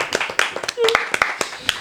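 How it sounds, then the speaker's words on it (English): A handful of sharp, scattered hand claps for a speech ring out close by, sparse and uneven, mixed in under lively talking voices. "give a round of applause for that speech, ladies and gentlemen"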